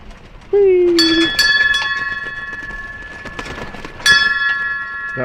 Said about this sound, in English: That was our traffic bell.